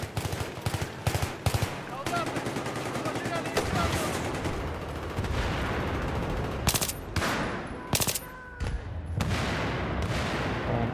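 Bursts of suppressed gunfire in Battlefield 3, a PC shooter match, with rapid clusters of shots and a few sharper single cracks over continuous battle ambience, loud and close throughout.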